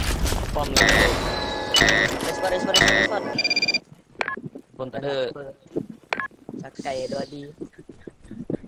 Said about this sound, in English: A bomb has been planted.